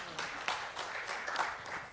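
Brief, moderate applause from the audience at an annual general meeting, a dense patter of hand claps with a few louder claps standing out and faint voices underneath.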